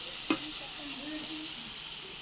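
Chickpeas and onions fry in a pan with a steady close sizzle, a single sharp clink near the start and faint stirring scrapes through the rest.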